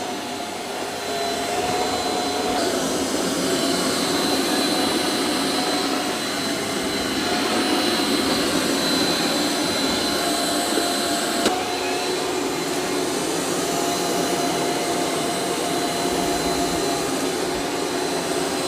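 A Eufy X10 Pro Omni robot vacuum and mop runs across the floor with a steady, moderately loud whirring hum and a faint shift in tone partway, continuous and without voices.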